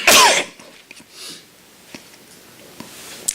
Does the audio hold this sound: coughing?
yes